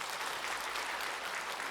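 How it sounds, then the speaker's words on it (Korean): Church congregation applauding in welcome during a Sunday worship service, a steady dense wash of many hands clapping throughout, fairly loud and with no talking over it. "인사할 때 박수로 환영해 주시기 바랍니다."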